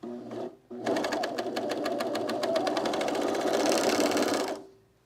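A sewing machine stitches trousers: a short burst, a brief pause, then a steady, fast, close-up mechanical run of about four seconds before it winds down and stops.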